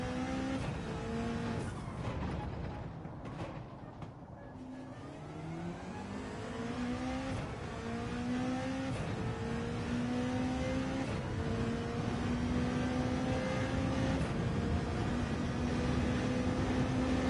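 A race car engine in Gran Turismo 7 revs hard and rises through gears with repeated upshifts, a loud continuous whine with tire noise, no talking over it.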